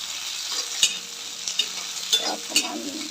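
Potato bhaji with onion frying in a pan, the sizzle steady and close while a utensil stirs through it in a few distinct scraping strokes; no one speaks.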